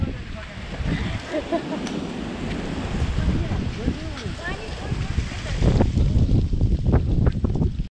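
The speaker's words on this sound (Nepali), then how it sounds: "पानी अहिले परेको छैन हावाले चाहिँ हो" Strong gusts of wind roar across a mountain trail in Dhading, Nepal, buffeting the microphone in a continuous rumble that swells toward the end, while people talk over it.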